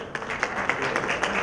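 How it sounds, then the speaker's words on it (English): A short burst of scattered clapping from a conference audience at a youth inclusion forum, close and moderately loud, with individual hand claps standing out. "A round of applause."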